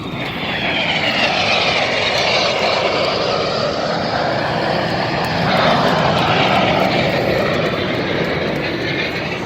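Red Arrows jets roll past in formation at the Battle of Britain air show at Duxford, a loud, continuous roar of jet engines that swells slightly midway.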